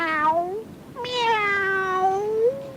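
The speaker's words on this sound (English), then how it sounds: "Close by, a cat meowed." A cat meows twice close by: a short meow followed by a longer, drawn-out one.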